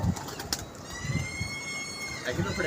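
Pigeons coo softly in low, repeated murmurs at a pigeon club, with a faint wing flutter, while people talk nearby over the birds.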